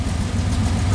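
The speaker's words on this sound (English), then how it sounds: "Idles comfortably at 700 RPM, roughly." Dodge Magnum V8 fitted with a Speedmaster intake manifold idling at about 700 RPM, a steady, close, low rumbling drone with no talk over it.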